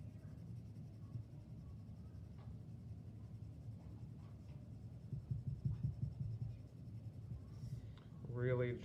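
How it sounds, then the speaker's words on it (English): A 4H pencil lightly shading a sphere on paper makes a soft, continuous scratchy rasp close up, growing a little stronger midway, with faint talking at times. "I'll switch over to my 4H pencil now and use the lighter pencils to finish this up."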